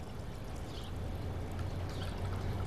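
Margarita strained over lime and ice cubes into a glass, heard as a steady, soft continuous pour with a faint liquid trickle, close and low in level, with no talking.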